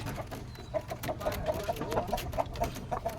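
Repeated soft clucking from a blue chicken, a rhythmic series of short calls over a busy, rumbling background.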